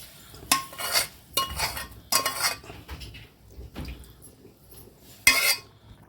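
Hot tempering is poured into spinach dal (palak pappu) in a pot, giving several short, sharp bursts of sizzle mixed with metal clinks of a spoon and vessel, with quieter stirring between them and no talking.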